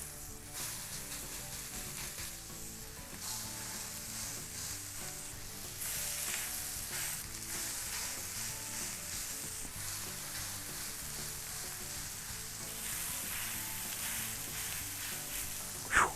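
Brisket burgers sizzle on a hot griddle set to medium-high, a steady, dense crackle that runs the whole time and swells slightly partway through, with no talking.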